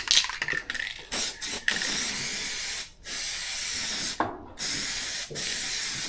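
Spray gun hissing as metallic paint goes onto a car's edges, long sustained bursts of close, loud spray broken by short pauses between passes.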